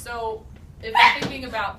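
A single sharp sneeze bursts out amid a person's speech, standing out briefly and loudly before the talking carries on.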